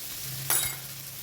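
Carrots and beans sautéing in a pan for veg Maggi noodles, a short soft sizzle with a brief stir-like swell at the middle, close and quiet.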